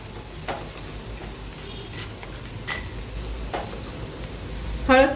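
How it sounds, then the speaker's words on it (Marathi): Turmeric and onions sautéing in a pan make a soft, steady sizzle, close by, broken by a few brief clinks and scrapes of a spoon against the pan, with a sharper metallic rattle at the very end and no talking. "हळद थोडीशी कांद्यामध्ये परतून घ्यायची आहे"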